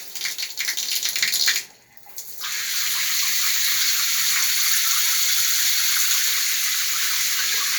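Cold water from an Acqualaf faucet spout runs as a steady, close gush after a brief pause near the start, continuing unbroken to the end.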